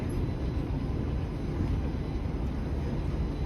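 A subway train lays over in a Toronto station, giving a steady, loud low rumble and hiss with no distinct events.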